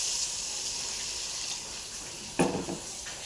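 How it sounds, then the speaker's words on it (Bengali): Water poured into a pot of curry with potatoes, cauliflower and spices gives a soft, steady rushing hiss, then a brief louder splash near the end. "কষানো হয়ে গেছে, এবার জল দিয়ে দিলাম।"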